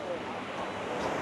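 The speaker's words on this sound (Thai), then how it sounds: "นี่คือน้ำตกตาดเนาะอยู่ที่ ปากซองแดนหนาวน้ำตกตาด" Water at Tad waterfall in Pak Chong, Thailand, rushes in a brief, continuous, even roar with no breaks, fairly soft and heard from a short distance.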